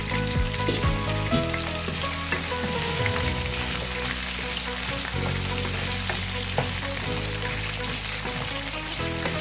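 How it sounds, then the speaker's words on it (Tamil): Green onions sauté in a pan for garlic kulambu, giving a dense, steady sizzle with repeated stirring scrapes, while music plays underneath. "நல்லா வதங்கட்டோம் இப்போ கிண்டி விட்டுனே இருக்கணும்"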